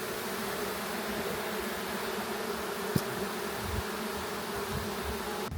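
Honeybees at a hive during a honey harvest in Çatalca, Istanbul, giving a dense, steady buzzing hum throughout with one brief faint tap, close and without voices.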